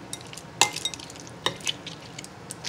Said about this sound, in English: Gotta gently stir.